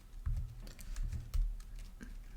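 Typing on a computer keyboard while writing XHTML code, with soft, muffled keystrokes in several short clusters, close by over a low background rumble.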